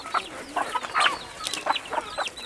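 Chickens at a local poultry farm in rural Poa cluck in short, scattered bursts, several birds calling irregularly at moderate distance over a quiet background.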